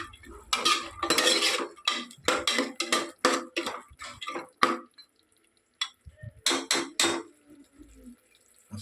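Raw field beans (avarekai) tumble into a metal cooking pot in a home kitchen, giving a run of close clattering and scraping bursts with short pauses, like a spoon stirring and knocking against the pot.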